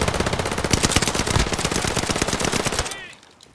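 Call of Duty Warzone machine gun fire: a fast, loud, unbroken burst of close shots for about three seconds, then it cuts off abruptly into quiet.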